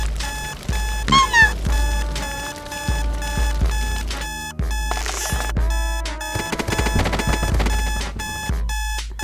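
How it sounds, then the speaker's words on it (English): Fire alarm chirping from a dead battery in a Garry's Mod animated scene, repeated short electronic beeps sounding over a busy background of music and effects. "okay, why is the fire alarm beeping?"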